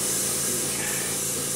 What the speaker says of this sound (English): Spraying the paper here.